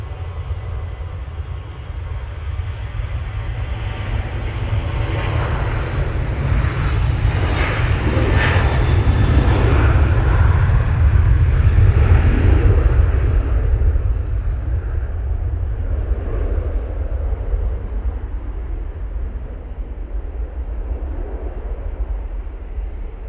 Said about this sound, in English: Ryanair now on the go, 737-800